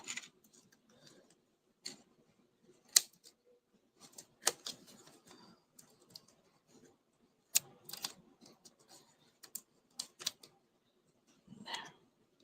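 Scissors snipping through a craft kit piece, a series of quiet, crisp clicks and cuts spaced irregularly with soft rustling between them.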